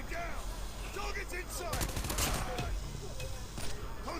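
Rapid gunfire from a Call of Duty match crackles in dense overlapping bursts throughout, with players talking and shouting over the steady barrage.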